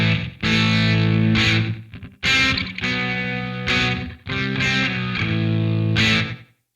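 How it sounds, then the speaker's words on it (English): Jackson King V electric guitar played through overdrive distortion, loud sustained chords in several strummed phrases separated by short gaps, ending with a decaying fade. "now let's try some distortion. We're going to go with an overdrive first."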